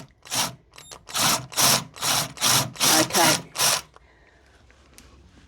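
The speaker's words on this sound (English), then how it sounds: "That's why I start off slow, to make sure my drill bit doesn't move." A drill bit bores into a wooden shelf in a series of about eight short, loud, whirring bursts in quick succession, followed by quiet room tone and a brief spoken word.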